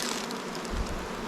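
Honeybees buzz around the hive in a brief, dense, steady hum, close and moderately loud, with no voices.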